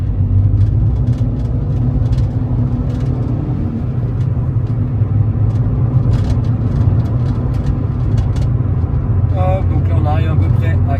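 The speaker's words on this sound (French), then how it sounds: "on va faire une accélération assez franche" Fiat 500 accelerating firmly on the road, a steady loud low engine drone and road rumble heard from inside the car, with a voice talking over it near the end.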